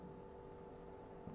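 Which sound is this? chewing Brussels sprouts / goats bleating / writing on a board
writing on a board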